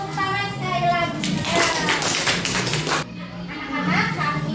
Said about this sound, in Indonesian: Kelompok 6 kita beri tepuk tangan sekali lagi.